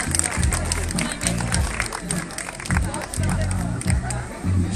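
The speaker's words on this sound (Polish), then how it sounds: "bardzo proszę o gorące brawa na tego zawodnika" Spectators at a Mazovia cycling race event in Szydłowiec clap and cheer for a competitor, a steady spread of applause from a crowd outdoors with some murmuring and a voice over the noise.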